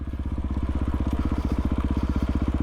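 A Kawasaki KLR motorcycle engine thumps in a fast, even rhythm while riding a broken-up rough road, loud and close as from a helmet-mounted camera, with no talking.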